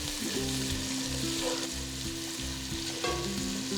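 Whole spices sizzle and crackle steadily in hot oil for chana pulao, a continuous close frying hiss under soft background music.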